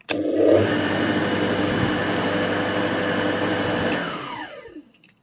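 An Ursus C360 tractor alternator spins up on a bench test, a loud steady motor whine with mechanical hum that runs evenly for about four seconds, then winds down with a falling pitch.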